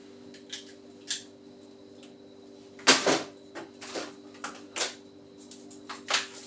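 Copper wire being stripped by hand: a series of sharp, close snips and scraping rips, with one louder tearing burst in the middle and smaller clicks spaced irregularly, all over a low steady hum.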